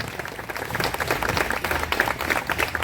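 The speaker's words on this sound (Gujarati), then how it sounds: "આખી એન્ટાયર ટીમ માટે ફરીથી એકવાર જોરદાર તાળીઓ થઈ જાય" Crowd applause for a performing singing team on stage at a temple event in a Reliance township, a dense wash of steady clapping that holds at moderate level throughout.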